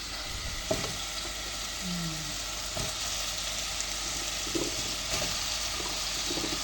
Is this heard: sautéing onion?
yes